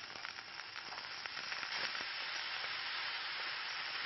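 Onion frying in oil in a pan that just seared meat, a soft continuous sizzle with faint crackles and hiss, steady and close with no voices.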